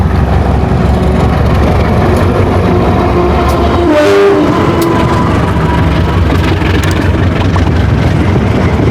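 A train passes on the railway line at Madiun, a steady, loud, close rumble of engine and wheels on the track, continuous throughout with a brief swell midway.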